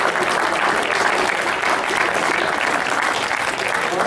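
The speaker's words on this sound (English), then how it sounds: "We'll give a round of applause to Representative Warren Peterson and Eddy F" A conference audience gives a round of applause for two state representatives, dense steady clapping from a sizable crowd sustained throughout at full volume.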